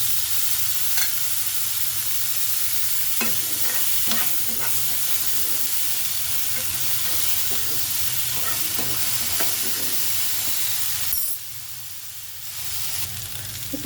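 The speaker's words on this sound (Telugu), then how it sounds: "ఇప్పుడు శనగలు వేసేస్తున్నాను." Kabuli chickpeas are tipped into a hot pan and stir-fried, giving a constant frying hiss with scattered scraping clicks from stirring, then a short dip in the sizzle before it picks up again.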